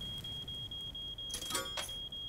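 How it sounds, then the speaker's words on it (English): A smoke detector in the game Little Inferno sounds a sustained high-pitched tone over a quiet background, broken near the end by two short bursts of harsher noise. "smoke detector."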